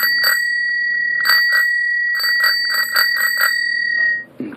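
Rapid metallic trills from the bell on an 1884 German high-wheeler bicycle, rung in several short bursts with brief gaps, bright and close, ending with a soft clunk.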